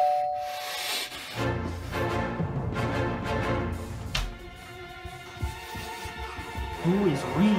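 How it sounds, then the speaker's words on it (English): A doorbell rings indoors, a chiming ding-dong tone standing out near the end over room noise and background music, with talk around it. "Who is ringing that doorbell?"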